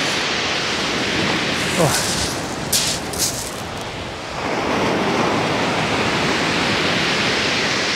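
Strong wind roars steadily across the microphone on stormy Chesil Beach, with crashing surf beneath it; a brief exclamation from a man cuts in near the start.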